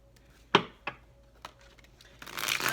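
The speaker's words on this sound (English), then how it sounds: "So I do shuffle and wait for the cards to come out." Tarot cards are handled and shuffled, giving a few crisp separate slaps and flicks, then a rising papery riffle at the end, close and quiet with no talk.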